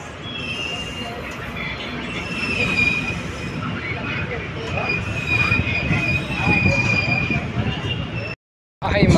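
An Indian passenger train runs steadily, pulling away from Karur station with a continuous rumble of wheels on rails and a faint metallic squeal. The sound cuts out briefly near the end.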